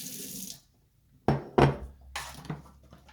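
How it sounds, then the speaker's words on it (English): Brief faucet-like water sounds: a short run of water, then a few quick splashing pours into a bowl, close by with quiet gaps between. "add a splash of water"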